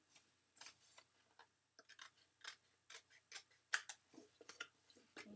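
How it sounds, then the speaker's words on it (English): Small non-stick snips trim along the edge of a card base in a quiet, irregular series of short, crisp cuts, about a dozen in all. "take your little handy dandy non-stick snips and you trim right along the edge of the card base"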